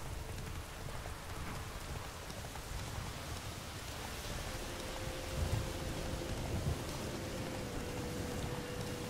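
Steady rain patters densely on surfaces during a thunderstorm in The Witcher III: Wild Hunt, with a soft low rumble of thunder swelling midway, and no voices.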